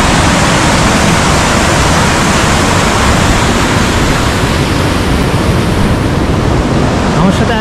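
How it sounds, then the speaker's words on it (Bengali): A fast mountain river on the Kashmir Great Lakes trek near Sonamarg roars loudly and without a break under heavy rain and cold wind, a dense wash of rushing water close by. "দেখুন খরস্রোতা নদী।"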